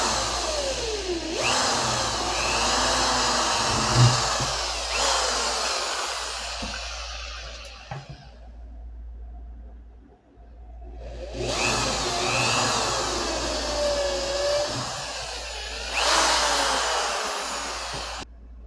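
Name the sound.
drilling a 3 mm hole for a screw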